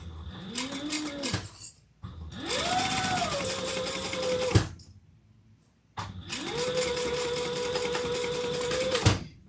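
A sewing machine stitching leather runs in long steady bursts with a rising whine, stopping briefly between them, close and loud with no talking.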